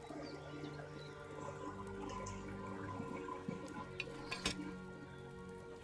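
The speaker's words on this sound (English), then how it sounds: "Hear that bubbling? It's boiling." A potion cauldron set over a flame in the medieval game Kingdom Come Deliverance 2, bubbling and boiling in a steady watery churn, with scattered pops and splashes over a low simmering hum.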